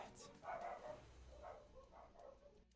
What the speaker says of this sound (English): My dog's in the background.